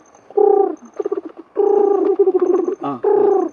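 A voice imitates a pigeon's cooing with a few low, throaty warbling coos in short bursts, close and fairly loud.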